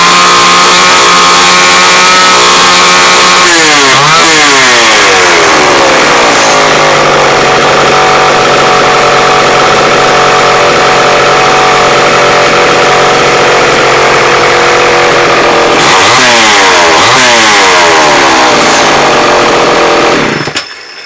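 A reassembled Homelite XL Automatic chainsaw runs loud and close, idling between two sharp bursts of revving that climb and fall, with no talking.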